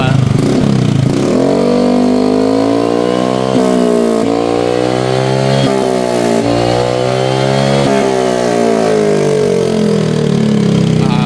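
Motorcycle engine with its silencer removed from a Villain 370 carbon muffler, revving loudly and continuously up and down with a raw, throaty roar close to the microphone, no talking.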